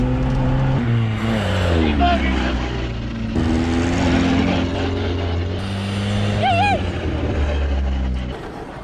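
An old U-Haul mini box truck that was abandoned for years revs hard while accelerating. The engine roars loudly and steadily with shifting pitch, and a voice can be heard talking over it.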